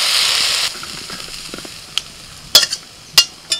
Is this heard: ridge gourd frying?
yes